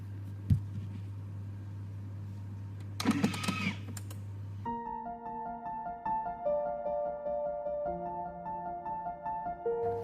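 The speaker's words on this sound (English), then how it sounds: "I'm going to do this on my machine with the knead setting" A bread machine kneads pizza dough on its knead setting. A low hum and brief rustling give way to a whirring motor whose pitch shifts in steps as it churns, close and moderately quiet.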